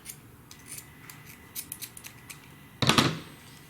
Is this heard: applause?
no